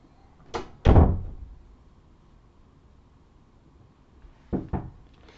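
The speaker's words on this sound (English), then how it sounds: "Can you close my door?" An interior door swings shut with a soft first thud and a heavier closing bang, then a pair of faint latch clicks a few seconds later in an otherwise quiet room.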